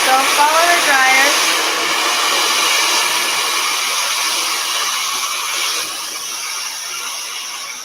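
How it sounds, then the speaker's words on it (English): Hair dryer blowing steadily and loudly throughout while styling hair into a ponytail upstyle, a continuous airy roar with a slight whine, no talking over it. "So follow the dryer."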